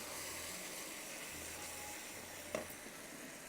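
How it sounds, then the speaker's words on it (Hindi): Yogurt frying in a pan, a continuous soft, even sizzle with a faint clink partway through. "दही डाल के भूनेंगे"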